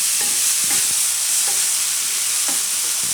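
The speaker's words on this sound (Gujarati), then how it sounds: "મેથીને થોડીક વાર આમાં પાકવા દઈએ." Sprouted fenugreek sizzling steadily in a pan, a bright continuous hiss with a few soft utensil scrapes and taps as it is stirred; no voices.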